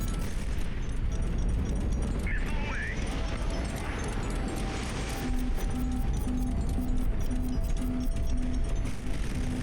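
A missile explosion in the HighFleet video game, a sustained loud roaring rumble of battle noise with a steady beeping tone partway through, no talking.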